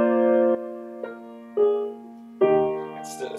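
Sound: dominant chord played without the seventh

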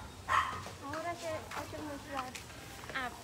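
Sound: dog barking

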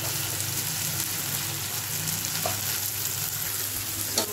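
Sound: spices frying in a pan for gahat dal

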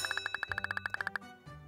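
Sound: school bell ringing in Kindergarten 2 video game

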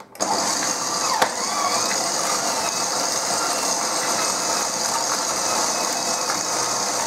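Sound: electric mixer beating butter and sugar at low speed

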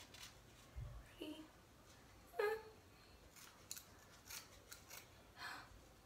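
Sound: cutting hair with scissors

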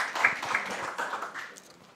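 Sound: applause

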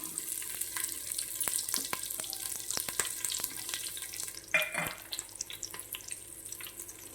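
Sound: onions and green chillies frying in pan for khichdi

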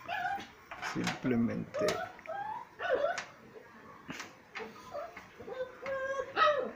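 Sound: small dog whimpering

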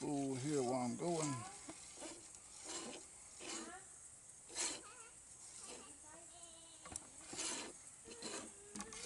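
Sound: fishing line pulled off a spool

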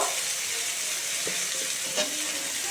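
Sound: stirring drumstick and potato curry with turmeric in pan

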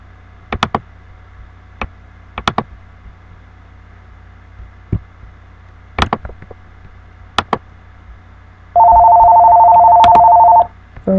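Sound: telephone ringing

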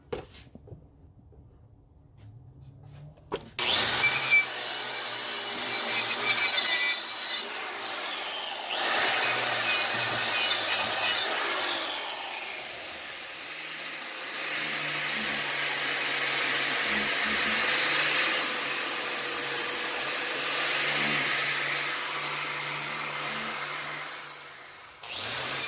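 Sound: wire wheel cleaning out a casting flask

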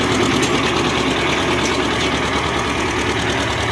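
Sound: T-30 tractor engine idling with gearbox noise

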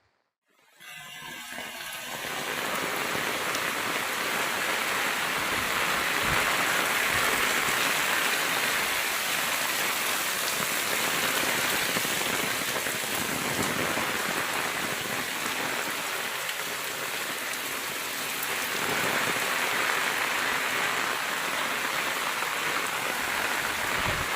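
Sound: heavy rain

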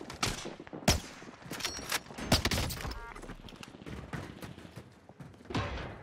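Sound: gunfire in Warzone video game

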